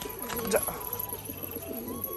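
Soft, repeated cooing of Rajshahi pigeons close by, mixed with a person talking and faint background hum.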